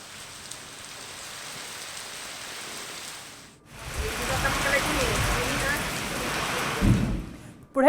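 Heavy unseasonal rain pours steadily in Latur district, a dense continuous hiss that grows louder partway through, with faint speech near the end.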